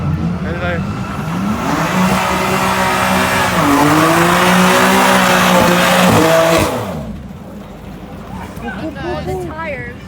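Car tires squealing at a Scottish car meet, heard as a loud, sustained screech with a revving engine rising and falling for several seconds. The noise then cuts off, leaving crowd chatter and voices nearby.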